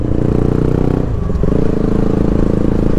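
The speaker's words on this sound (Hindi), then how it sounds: "मॉर्निंग में है ना साउंड बहुत, मतलब कि एग्जॉस्ट साउंड बहुत शानदार" A cold Yamaha R15 motorcycle exhaust idles loud and close, a steady low pulsing throb that holds for about three seconds, briefly dipping partway through before resuming at the same level.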